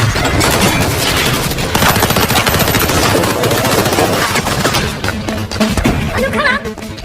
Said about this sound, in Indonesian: sehingga adegan baku tembak pun terjadi.